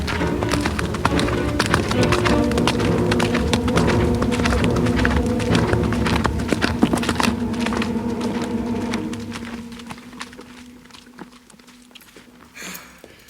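Horse galloping in a French audio drama set in Arthurian legend, a dense, loud drumming of hoofbeats that carries on steadily, then fades and thins toward the end.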